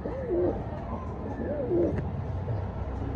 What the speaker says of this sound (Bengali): আগে কবুতরের ডাক দেখেন